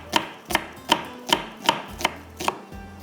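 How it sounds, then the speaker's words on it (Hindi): Onions being sliced with a knife on a cutting board, with eight crisp, evenly spaced chops in a steady rhythm, close and loud, with no voices. "ये हम प्याज को स्लाइस में करेंगे"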